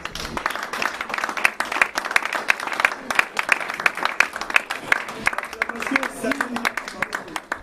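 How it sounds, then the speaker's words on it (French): Men in a French-speaking evangelical church congregation in Paris cheer and applaud, sustained dense clapping with crowd voices throughout, loud and steady. "Et les hommes peuvent acclamer très fort pour les..."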